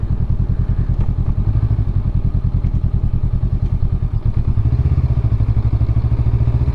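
Motorcycle engine running steadily with a rapid, throbbing idle-like pulse and clattering mechanical knocks, close and loud throughout, with a slight change in engine pitch near the end where the gear seems to be in question.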